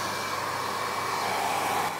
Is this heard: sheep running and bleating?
no